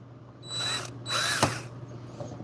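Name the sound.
drill drilling out brass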